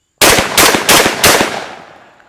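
A TriStar Viper G2 shotgun fires Remington rifled .410 slugs, four loud, close blasts in quick, even succession, with the last report ringing out in a fading echo.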